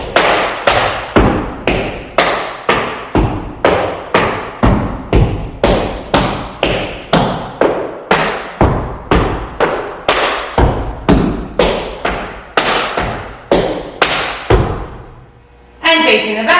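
Tap shoes strike a hard floor in a quick, steady rhythm of scuffs, pops, spanks, toe and heel taps, about two sharp hits per second for roughly fifteen seconds, close and loud, as a beginning-intermediate combination is danced.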